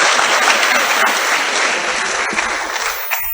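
Audience clapping at a memorial lecture, a steady, dense wash of hands that holds strong throughout without pause.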